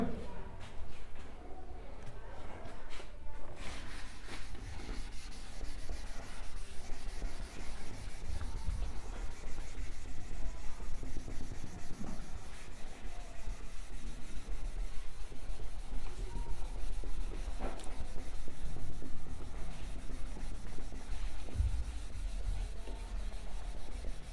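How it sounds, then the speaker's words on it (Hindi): Steady scraping and rubbing of chalk being wiped off a board, continuous and close, with brief murmurs of speech at points. "इधर वाला इरेज कर दूं, पूरा साफ कर दूं"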